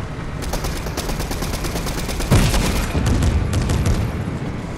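Shotgun fire from a Fortnite trios match: a rapid series of sharp, loud blasts with one heavier boom near the middle, continuing in a dense burst to the end with no talking.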